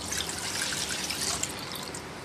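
Water poured into a cooking pot for maja blanca, a steady close splashing rush lasting the whole short moment, with no talk over it.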